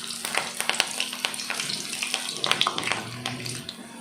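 Murungai (drumstick) flower pakoda batter bits crackle and bubble steadily in hot oil, a dense close sizzle with scattered pops and no voices.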